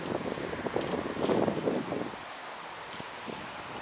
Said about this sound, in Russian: Смотрите, как у нас тут ветер остановку потихоньку разбирает.